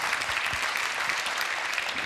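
A Greek late-night talk show's studio audience applauds steadily, a dense, even wash of many hands clapping that holds at moderate loudness throughout.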